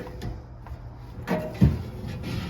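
A drawer slides open inside a 2022 Forest River Cherokee Alpha Wolf 30DBH-L bunkhouse travel trailer, a soft brief rumble and bump close by in a quiet interior.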